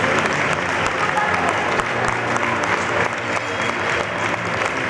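A crowd claps steadily and loudly for a youth football team at a tournament closing ceremony, dense continuous applause throughout.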